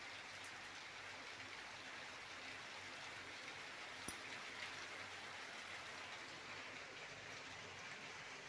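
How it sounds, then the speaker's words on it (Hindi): Heavy rain falls outside in a steady, even hiss of dense drops, distant and faint, continuing unbroken with no voices. "बाहर प्रबल वर्षा"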